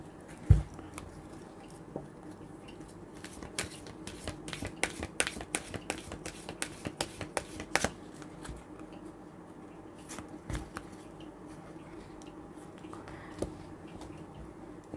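Romance Angel oracle cards are shuffled by hand in a quiet room, producing a quick run of crisp papery clicks and flutters that cluster densely in the middle, with sparser taps before and after and no talking.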